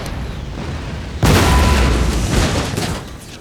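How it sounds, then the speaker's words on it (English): In the Empire: Total War battle game, an artillery piece fires one loud, deep boom that cuts in suddenly after a quieter stretch and then rumbles away slowly. "we're going to have to hit you with the artillery instead"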